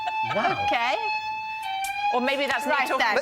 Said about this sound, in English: I think that's our fire alarm.